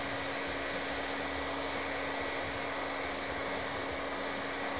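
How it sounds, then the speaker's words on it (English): A hair dryer runs steadily at close range to dry water-based wood filler in a woodworking shop, a constant loud whirring hum with no talking. "I'm going to use a hair dryer"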